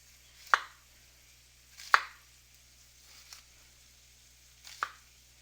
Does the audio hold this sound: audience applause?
no